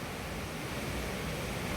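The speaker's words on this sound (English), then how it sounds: "It isn't good on the hearing to have the noise of a waterfall all day long" Water rushes over a weir in a continuous, dense roar, steady and loud, with no break or voices.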